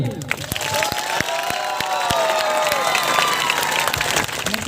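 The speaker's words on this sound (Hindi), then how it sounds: "एक बार जोरदार ताली" Audience at a tribal cultural event clapping loudly and continuously, a dense burst of applause with some cheering voices mixed in, close and steady throughout.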